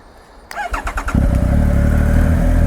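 A 2018 Triumph Speed Triple RS motorcycle engine cranks with a few chugging pulses, then catches and settles into a loud, steady idle close by.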